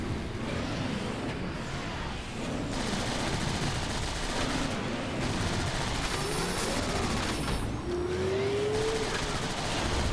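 Cannon shots boom repeatedly in the Transformers: War for Cybertron video game, dense loud blasts over a constant roar of game effects with no talking.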